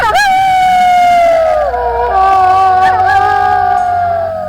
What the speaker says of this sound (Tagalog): Nakapangingilabot ang alulong ng mga asong balisa sa kung anong nakikita.